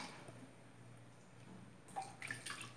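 Water runs steadily over a Yorkshire terrier puppy's fur during her first bath, a soft continuous trickle and splash close by, with a few brighter drips and splashes near the end.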